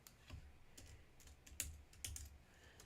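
Keys clicking on a computer keyboard, with light taps in small bursts and scattered louder strokes, typed up close in a quiet room.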